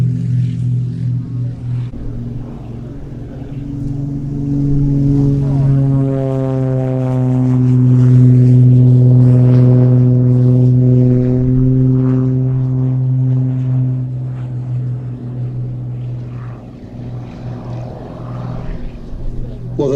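Mark Jeffries' aircraft lifts off from his own airfield at an airshow, a droning propeller engine swelling to a loud peak and then easing away, with a commentator's voice over it.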